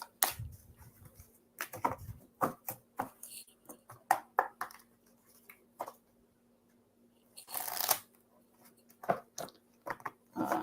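Quick crisp rustles and soft slaps of tarot cards being shuffled, in irregular bursts close to the mic, with a brief longer riffle partway through.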